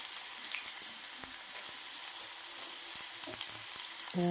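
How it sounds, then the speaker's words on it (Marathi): Onion, garlic, green chilli and tomato fry in a pan with a soft, steady hiss and crackle, faint and constant, with a few light clinks and scrapes near the end. "कांदा छान असं आपलं हे होतं आहे छान असं फ्राय होतं"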